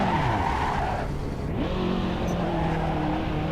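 A race car in the Assetto Corsa racing game brakes hard on a training lap, its tires squealing and skidding in a loud, continuous smear over the engine note, easing off as the car slows.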